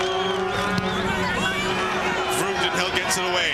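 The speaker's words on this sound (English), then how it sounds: "The crowd gets loud again" A football stadium crowd at a university Yates Cup game swells into a broad roar under a play-by-play commentator's continuous talk, the cheering rising and falling in the background.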